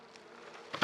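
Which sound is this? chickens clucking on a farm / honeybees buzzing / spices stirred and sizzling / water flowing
honeybees buzzing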